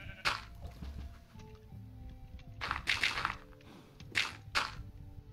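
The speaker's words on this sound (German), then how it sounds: "Wehe, hier springt eine Kuh rein." Cows low in the Minecraft modpack FTB Ultimate, with several short, breathy moo bursts in a loose sequence, fairly close and alone against a faint game backdrop.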